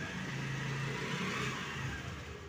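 Honda Dio scooter engine running steadily with a continuous mid-pitched hum and drone, close by and fairly loud throughout, with no talking.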